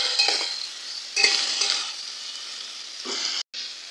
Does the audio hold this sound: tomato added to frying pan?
yes